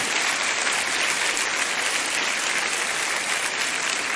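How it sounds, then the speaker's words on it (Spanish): Church congregation applauding the Lord: a dense, steady wash of many hands clapping together, sustained and even throughout with no pauses. "¿Cuántos le dan un aplauso al Señor?"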